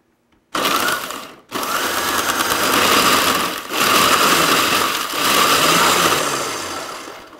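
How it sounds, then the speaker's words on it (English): A food processor grinds cookies into crumbs for a fat-free cheesecake crust, running in loud, harsh whirring bursts separated by brief pauses, close and without talk. "you're just going to pop these in your food processor and get them to a nice crumb consistency."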